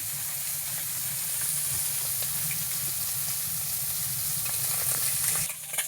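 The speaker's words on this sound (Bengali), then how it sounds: "এই যে হালকা করে ভাজা হচ্ছে" Small chuno fish lightly frying in a pan for a village-style curry with bottle gourd greens, a continuous close sizzle with crackling pops and a faint low hum, no talking.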